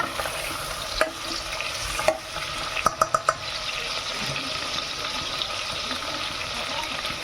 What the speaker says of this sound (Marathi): मसाले आपण यांनी लाईट केले आहेत तेलामध्ये मिक्स करून घेऊ आणि थोडा वेळ शिजत ठेवू